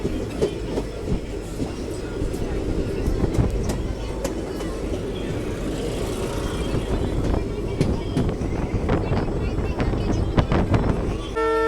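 A passenger train travelling from Ballari to Mantralayam pulls away from a station with rumbling wheels and clattering cars, and a horn sounds briefly near the end while someone talks over it.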